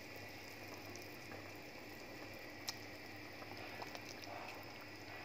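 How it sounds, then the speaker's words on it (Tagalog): Water boiling in a pot of chicken on the stove, a faint, steady bubbling and crackling heard close up and alone, with no talking. "Kumukulo na para maalis yung lansa."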